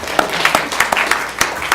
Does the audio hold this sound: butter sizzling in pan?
no